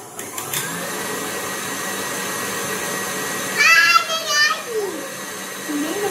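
An electric mixer beats red velvet cake batter with melted butter, chocolate and cream, giving off a steady, close motor whine. A voice and other voices break in briefly over it.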